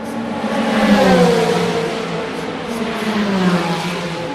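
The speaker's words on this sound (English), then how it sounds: "The cars are so fast here, it's impossible to read the position and the number on the cars." Race cars at the Le Mans 24 Hours sweep past one after another, their engines rising and falling in a loud, continuous rush that swells and fades over a few seconds.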